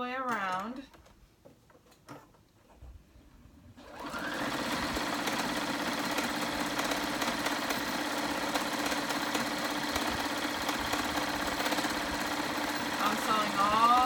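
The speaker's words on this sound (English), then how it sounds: "So now I'm gonna sew all the way around the raw edges of my stocking." A home sewing machine stitches steadily around the raw edges of a fabric Christmas stocking, running continuously and close after a brief spoken moment at the start.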